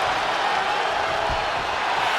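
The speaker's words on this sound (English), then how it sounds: "This packed house is going absolutely nuts." A packed arena crowd roars continuously during a WWE 2K25 wrestling match, a loud, dense wash of cheering that holds steady throughout with no clear breaks.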